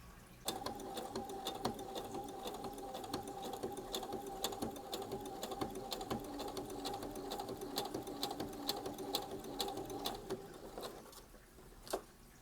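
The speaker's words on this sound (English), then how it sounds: "then I have to sew the pocket onto that piece" A sewing machine stitches a pocket onto the fabric lining of a crochet bag, running in a steady, fast rhythmic chatter for about ten seconds before it stops, with a soft knock at the end.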